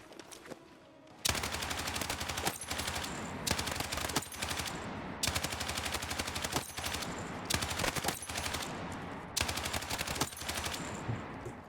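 A very accurate automatic gun in a video game fires long rapid bursts, each a dense roar of loud, close shots separated by brief pauses.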